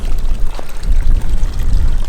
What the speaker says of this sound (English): A bit waterlogged here, streamy stuff going on.